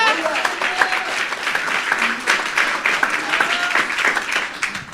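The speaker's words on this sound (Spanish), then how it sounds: "Un aplauso al Señor." A church congregation applauds steadily for about five seconds, dense clapping from many hands with voices mixed in throughout.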